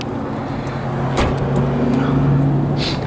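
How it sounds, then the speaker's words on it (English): A 1963 Volkswagen Beetle's air-cooled engine idling and running, a low steady rumble close by with a brief clunk and some background noise. "So we'll go for a quick drive."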